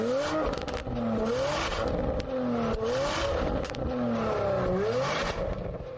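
A Porsche Macan GTS with a stock exhaust and catalytic converters revs repeatedly, loud and close, each blip sweeping the engine note up and back down in a rhythmic series of five or six rises.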